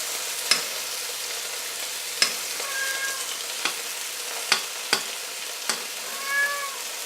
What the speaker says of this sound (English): I'm going to baste both of them.